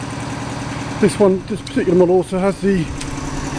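A Lister LT1 stationary diesel engine, an early-1970s unit with a 19mm camshaft, thumps steadily at low revs close by, its even rhythmic knock continuing under a voice speaking over it.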